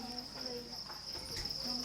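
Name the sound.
crickets chirping in a cricket farm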